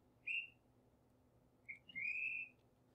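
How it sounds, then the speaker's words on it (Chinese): A traffic police whistle, used as a sound effect for a light-rail scene, gives a short shrill blast and then a longer sustained one, thin and fairly faint against a quiet background. "比方说这边有个哨子的声音。"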